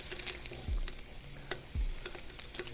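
Bacon-wrapped hot dogs frying in a pan, a quiet continuous sizzle and crackle with a couple of soft thumps from stirring or turning.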